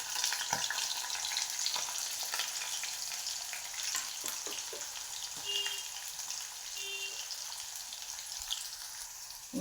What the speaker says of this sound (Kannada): ಈಗ ಆಯಿಲ್ ಹೀಟಾಗಿದೆ. ಈರುಳ್ಳಿ ಹಾಕ್ಕೊತಾ ಇದ್ದೀನಿ.